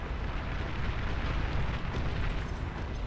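Rockets blasting and explosions from long range in the real-time strategy game Beyond All Reason form a dense, continuous roar of booms and bursts, steady and loud throughout with no talk.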